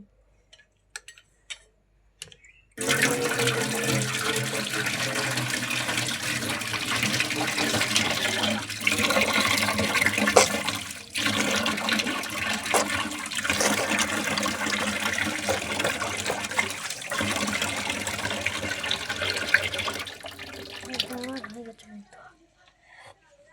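Water runs steadily from a tap while someone washes their face in the morning, a continuous close splashing stream with small drips and splashes, starting after a quiet moment and stopping near the end.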